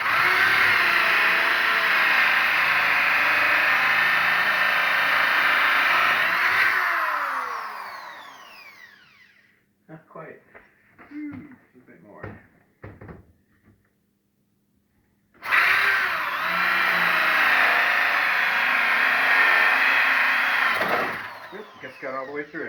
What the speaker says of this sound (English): I'm going to drill a little bit further.